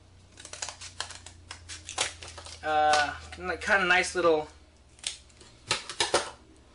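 Scissors snip a small strip of cardboard while making an Xbox 360 controller battery pack. Sharp, irregular clicks come up close, mixed with someone talking.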